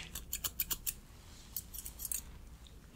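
Scissors snip in quick bursts of crisp metallic cuts, several in a row, then a few more scattered snips, close and fairly quiet.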